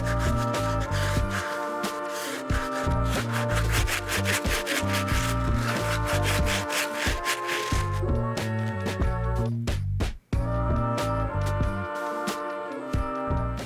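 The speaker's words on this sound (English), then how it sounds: "you're just going to apply pressure to the bottom of the sole and scrub" A brush scrubs a Vans sneaker sole in quick, rhythmic back-and-forth strokes, close and steady, with a brief pause near the end, and no talking.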